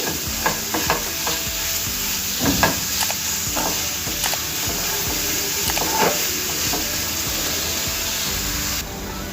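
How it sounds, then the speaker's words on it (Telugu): Ingredients for wood apple chutney frying in a pan, giving a steady hissing sizzle broken by intermittent stirring scrapes and light knocks, near and even in level, without speech. "చూడండి ఇలా 1 నిమిషం పాటు వేయించుకుంటే మనకు సరిపోతుందండి."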